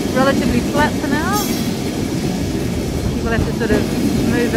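Lisbon's Tram 28 rattling loudly along its tracks through narrow streets, a continuous clatter of wheels with squeals and metallic screeches, and a voice talking over the rumble.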